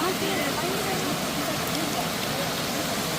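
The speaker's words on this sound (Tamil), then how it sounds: "அந்த சாரல் அடிக்குது" Steady, dense hiss of falling water and spray at Chinnakallar Falls in Valparai, a continuous wash of sound close by with no pauses.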